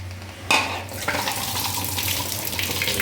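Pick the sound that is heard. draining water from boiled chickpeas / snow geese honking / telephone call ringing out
draining water from boiled chickpeas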